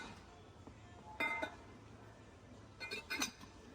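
Glass bottles, including a one-litre glass one, clink while groceries are unpacked at home: two short bursts of bright clinking against a quiet room background.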